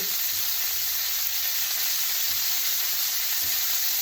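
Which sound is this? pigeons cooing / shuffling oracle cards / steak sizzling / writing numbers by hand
steak sizzling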